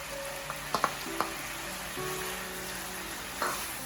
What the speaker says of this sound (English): The gravy has been boiling.